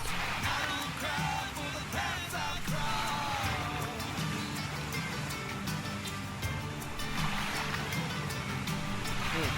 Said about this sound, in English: heading into strong rapids